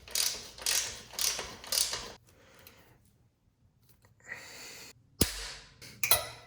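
A ratchet clicks in quick rhythmic bursts while a bolt is fastened on a Yamaha Banshee, close and crisp, with short pauses and a final sharp clank.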